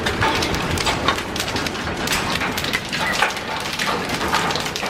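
Hail and rain pelting down during a 2020 storm near a pool and horse paddock, a dense continuous patter with sharper scattered impacts and no voices.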